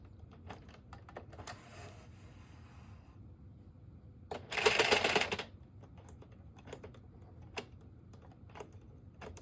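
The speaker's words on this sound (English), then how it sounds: "we're going to go ahead and we're going to remove all of our stitches from our machine" Stitches being taken off an Addi 46-needle knitting machine while knitting a two-toned reversible beanie: a steady run of light plastic clicks and ticks, with one louder rattling burst partway through, close and without speech.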